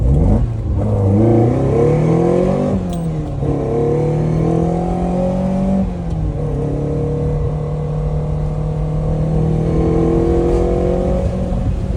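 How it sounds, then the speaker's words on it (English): A station wagon's engine revs while driving, a steady mid-pitched drone that climbs and drops through several rises in pitch, loud and continuous throughout with no voices. "The car drives great."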